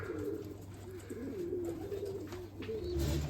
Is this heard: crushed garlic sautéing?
no